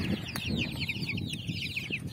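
Turkey chicks on a poultry farm cheep in a steady stream of high, rising peeps, close and moderately loud, over a low background rumble.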